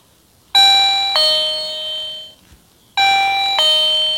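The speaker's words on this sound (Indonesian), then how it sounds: "Kenapa bel ini tadi berbunyi?" A motion-sensor electronic guest doorbell plays two loud, clear two-tone ding-dong chimes, one after the other, each tone ringing out bright and sustained with a short quiet gap between.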